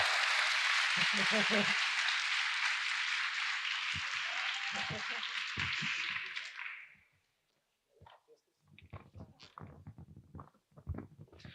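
Audience applause for a speaker at a Jovem Aprendiz youth apprentice event, a loud sustained wash of clapping and cheering that stops after about six seconds, followed by a voice talking.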